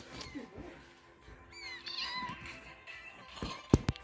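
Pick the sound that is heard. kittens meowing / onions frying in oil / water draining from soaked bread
kittens meowing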